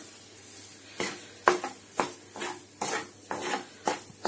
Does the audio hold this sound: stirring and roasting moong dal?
yes